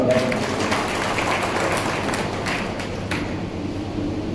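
A crowd at a public address to the Jatav community in Ashoknagar gives a steady wash of clapping that continues evenly and then thins slightly, with no clear voice over it.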